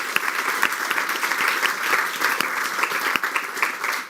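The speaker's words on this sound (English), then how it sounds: "if we can get a round of applause for our speakers this morning" Conference audience applauding its morning speakers, a steady, dense patter of many hands clapping at close range, held evenly throughout without talk over it.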